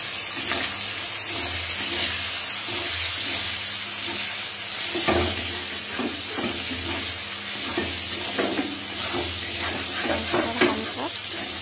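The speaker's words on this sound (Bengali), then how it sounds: "হালকা ব্রাউন কালার যতক্ষণ না আসছে ততক্ষণ নেড়ে যাব।" Chopped onions fry in a pan for mixed fried rice, hissing steadily while a spatula scrapes and stirs them in irregular strokes that grow busier toward the end.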